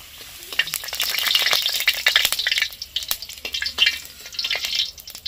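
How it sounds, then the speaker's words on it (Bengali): Potatoes frying in a pan until well browned, close crackling sizzle broken by repeated sharp scraping and clattering strokes as they are stirred and turned, uneven in rhythm, with no talk. "আলুটা দেখো পুরো লাল করে ভেজে নিয়েছি, এবার আমি তুলে নেব।"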